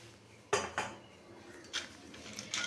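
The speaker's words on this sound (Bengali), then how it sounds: "এই যে দেখো আমি বড়িগুলো দিলাম" Lentil dumplings (bori) dropped into a cooking pan make a few sharp clinks and knocks against the metal, spaced irregularly over a quiet kitchen background.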